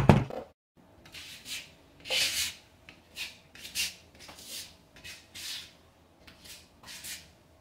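Scraping and rubbing strokes of burnt cement plaster being spread across a tiled wall, several separate swipes with short pauses between, close and fairly quiet, without speech.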